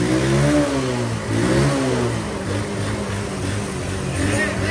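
A motorbike engine revs in short bursts close by, rising and falling in pitch with a steady rumbling idle between throttle blips.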